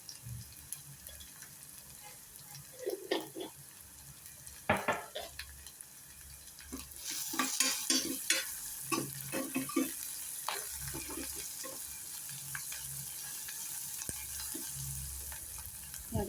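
Chopped onion sizzles in hot tempering oil for a horsegram stir-fry, with irregular scraping and clinking of a spatula stirring through the pan; the frying grows louder and busier partway through.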